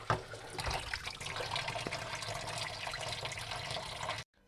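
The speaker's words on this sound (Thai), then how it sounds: "ล้างเกลือเสร็จก็ล้างน้ำเปล่า" Catfish being rinsed with plain water, a steady splashing, running-water wash that is close and continuous for about four seconds before cutting off abruptly, with no talk.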